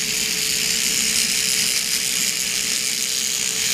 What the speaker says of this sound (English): this is going to help them get used to you guys using a Dremel if you file their nails down with that